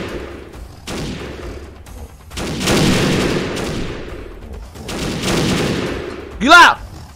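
Shotgun fire from a fat modern human fighter in Animal Revolt Battle Simulator, heard as several loud broadband blasts spaced a second or two apart, the last one sharp and close with a ringing tail.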